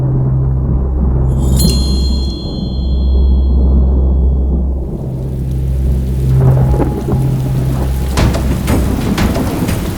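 Heavy rain pours steadily during a thunderstorm, with deep rolling thunder rumbling through and sharper cracks near the end, and no voices present.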